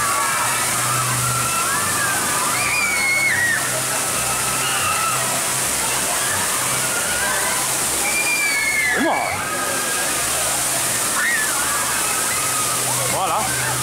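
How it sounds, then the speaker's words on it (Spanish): Water-show fountains at the Phantasialand theme park gush and splash steadily throughout, a continuous loud rushing wash with crowd voices and chatter mixed in over it. "Fíjate qué espectáculo de agua."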